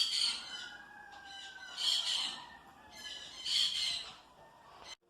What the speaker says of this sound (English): He's a lovebird, and he's got the friendly little peekaboo cheep.